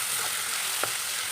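Potatoes for aloo bhaja frying in a pan, a dense, even sizzle close by with one faint stirring scrape partway through.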